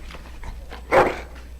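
A single bark from a dog in the fantasy role-playing game Dragon Age: Origins comes in a short, close burst over a quiet background.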